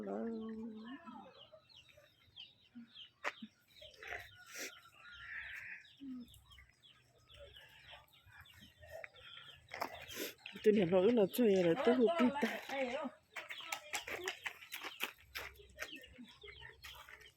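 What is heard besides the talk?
chickens clucking and roosters crowing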